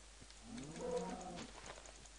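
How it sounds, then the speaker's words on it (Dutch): A cow in Minecraft gives a single drawn-out moo that swells and fades, fairly faint against a quiet background. "Hier zijn veel koeien."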